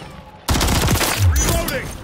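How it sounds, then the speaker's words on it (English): Gunfire in a video game erupts suddenly into a loud, rapid volley of automatic shots, with a voice calling out over the shooting. "Taking fire."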